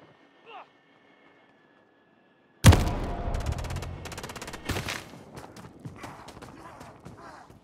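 Sudden loud gunfire in a Call of Duty battle, a heavy burst of shots followed by rapid, rattling fire that trails off, with voices under the din.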